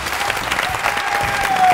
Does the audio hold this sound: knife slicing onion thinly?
no